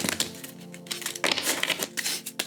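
A deck of tarot cards is shuffled in a quick flurry of crisp riffling and slapping clicks, close and fairly quiet, with no talking over it.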